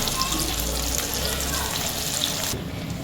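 Kurkure-coated cauliflower florets fry in hot oil, a few at a time, giving a dense, loud, continuous sizzle that eases slightly at the very end.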